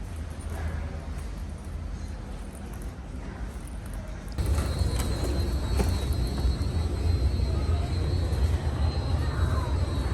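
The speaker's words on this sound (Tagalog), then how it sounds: "Ayun yung mga aeroplano." Airplanes at an airport gate produce a steady, loud, broadband jet roar that jumps louder partway through and then holds constant.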